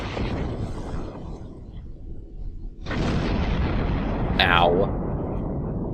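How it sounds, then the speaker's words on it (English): A warp core explodes in the space combat game Star Trek Online: a sudden, loud, broad rumbling blast that sustains for several seconds, with a sharp whistling sweep over the top of it, following steady weapons-fire noise. "warp core explosion's not the most fun thing in the world"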